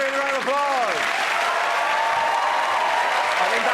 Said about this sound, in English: give everyone a round of applause